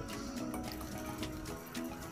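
Water pours into a pressure cooker holding soaked black chickpeas, a steady splashing stream running close and continuous for a couple of seconds with no talk.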